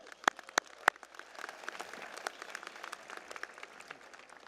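Scattered applause from an audience at a 2016 college commencement ceremony for a graduating student who sang the national anthem, a few sharp claps up front then a light, thinning patter of clapping.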